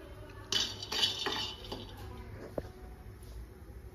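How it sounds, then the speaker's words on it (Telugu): Peanuts dry-roasting in a pan on the stove, giving soft scattered rattles and clinks of nuts and utensil against metal, faint and intermittent. "సో పల్లీలు ఇప్పుడు మనం వేయించుకుంటున్నాం."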